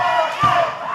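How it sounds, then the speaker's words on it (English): A wrestling crowd at an indoor event gives a brief, mixed reaction of shouts and cheers, loud and close for about a second. "Split reaction here from the crowd."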